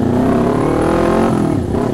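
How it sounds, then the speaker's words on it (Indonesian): A 2019 Kawasaki Ninja 250 motorcycle throbs loudly and close through its exhaust, a steady rumbling drone that holds strong throughout and dips briefly near the end. "suara admin kayaknya kalah sama nih knalpot."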